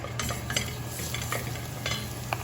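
Garlic frying in olive oil in a pan, a steady close sizzle with occasional soft spoon or utensil scrapes and stirs over a low hum.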